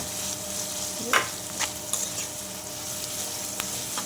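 Onions sauté in a hot pan with an even, continuous sizzle, broken by a few brief scrapes as they are stirred. No voices are heard.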